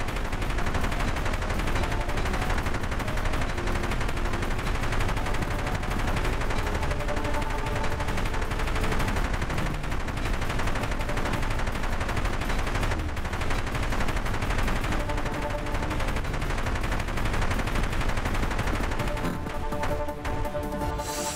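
A level-one helicopter autocannon fires in a video game, a loud, unbroken stream of rapid shots that runs nearly the whole stretch, layered with dense game sound and no pauses.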